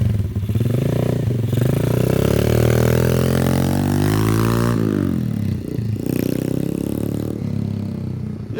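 A BMS Pro Premium 125 four-stroke dirt bike engine runs close by, revving up in a rising buzzy note, dropping back, then idling and blipping with a rough, clattering exhaust tone.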